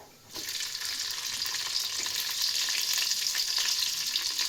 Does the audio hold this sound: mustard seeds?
yes